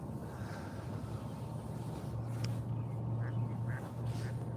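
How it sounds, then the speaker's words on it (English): A duck quacks several times, short nasal calls rising over a steady outdoor background of wind and low hum, fairly close, with no talking. "Don't quack, quack, quack."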